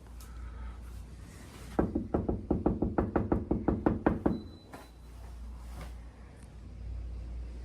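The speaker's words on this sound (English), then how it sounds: "I think I'm knocking very nicely" About a dozen evenly spaced, firm knocks on a door, a steady rhythmic run that stops abruptly, set against a low constant hum of a nearby idling vehicle.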